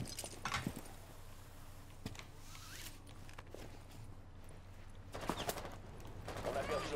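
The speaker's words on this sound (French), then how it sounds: "on me tire dessus dans le dos maintenant" Gunfire in Rainbow Six Siege, scattered sharp shots and short rattling bursts over a low hum of game ambience, some distant and some nearer, with movement noises between them.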